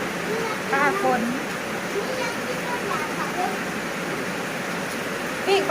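Rain pours down in a steady, broadband rush that sounds almost like a waterfall. It runs continuously under a man's occasional speech.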